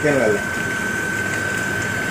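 A mineral water plant pump runs with a steady mechanical hum and whine, water rushing through it; a brief voice is heard at the start.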